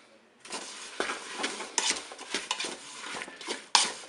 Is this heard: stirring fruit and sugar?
yes